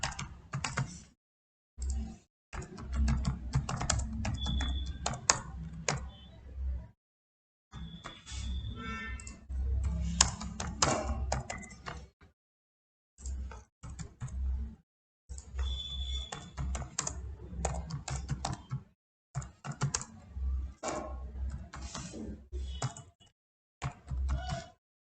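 Keys clatter on a computer keyboard as a web address is entered, in bursts of quick close-up taps separated by short pauses, with no talk.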